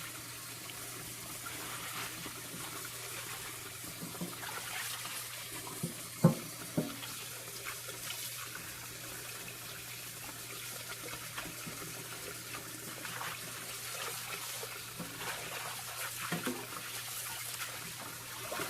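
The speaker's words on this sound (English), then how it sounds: "I'm going to take it while the water's still running" Steady running tap water splashing into a sink while rinsing collard greens, with a few brief clinks and rinsing splashes, fairly close and continuous throughout.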